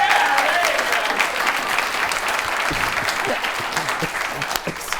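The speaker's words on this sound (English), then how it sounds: "There's the lone clapper." A TV talk-show studio audience applauds in a steady, dense wash of clapping that fades slightly over several seconds, with a brief whistle near the start and faint voices underneath.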